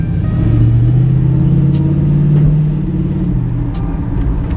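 A 1978 Chevrolet El Camino's engine revs up close by, a deep rumbling exhaust note rising and falling with audible intake noise, loud and steady throughout.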